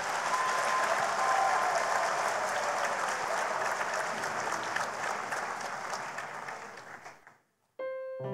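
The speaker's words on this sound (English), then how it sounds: "let's just give them a round of applause and encouragement now." Sustained applause from a church congregation for children at a Christmas carol service, a dense, steady roar of many hands that fades out near the end before a brief tonal sound.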